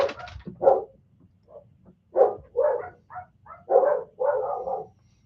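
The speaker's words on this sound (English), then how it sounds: "there goes the dogs upstairs." Dogs upstairs bark in a muffled, indoor way, with several irregular barks and yips coming in bursts, some paired and some alone.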